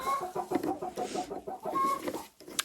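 Hens cluck steadily and close by inside an unheated chicken coop, a busy overlapping chatter of short clucks with no voices.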